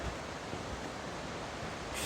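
The Rupi Raila waterfall in Kullu District, Himachal Pradesh, rushes in a rocky setting, a loud steady broadband roar throughout, with no talk.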